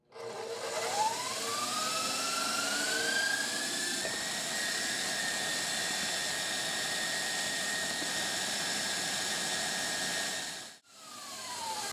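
An electric mixer whips butter and granular sweetener in a bowl, a steady whirring drone that rises in pitch as it spins up, then runs evenly on its own before briefly cutting out near the end.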